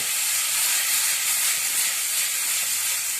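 Mixed vegetables sautéing in a wok over a high flame, a steady close hiss and sizzle running unbroken, with no voices.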